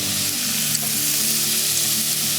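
Spices with paprika, salt, pepper and a pinch of saffron cooking in a pan for a lemon dish, an even, close frying sizzle with faint stirring, steady throughout and without voices.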